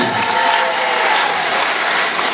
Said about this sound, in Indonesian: tepuk tangan dulu, ramai